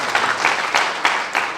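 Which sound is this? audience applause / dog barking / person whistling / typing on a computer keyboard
audience applause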